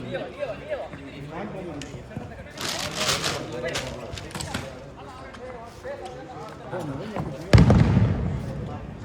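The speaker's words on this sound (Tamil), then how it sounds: "பட்டாசுல அடிக்கிறாங்க" Sharp cracking bursts of firecrackers going off in quick succession, with people talking throughout and a louder blast near the end.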